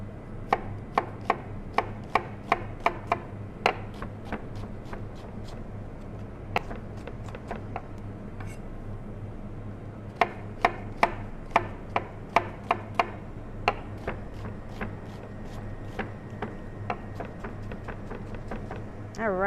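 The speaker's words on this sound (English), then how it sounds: "just kind of chop it up. And get to that last. All right. Onion, one more" A knife chops onion on a cutting board in steady bursts of quick, sharp strikes, pausing briefly midway before resuming, with a constant low hum in the background.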